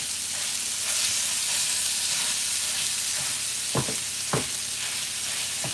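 Sausage browns in a pan with a steady, close sizzle that runs throughout, broken by a couple of sharp scrapes or taps near the end.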